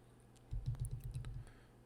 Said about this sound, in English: I swear I'm going to start typing.